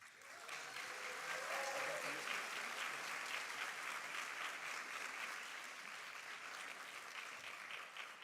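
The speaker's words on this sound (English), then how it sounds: "Join me in applauding the winner" A crowd at a university student leadership awards ceremony applauds an award winner, dense steady clapping that rises fast, holds for several seconds and eases a little toward the end, with faint voices underneath.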